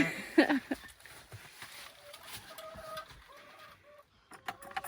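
Chickens cluck in short, scattered calls at close range, mixed with a few bird-like chirps and rustles, fairly quiet with gaps between bursts.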